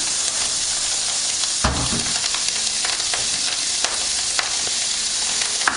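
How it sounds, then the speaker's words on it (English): Bacon and an Italian sausage frying in a pan over very high heat, a dense steady sizzle with scattered crackles and pops, close and continuous. "That's just cooking away now on a very high heat."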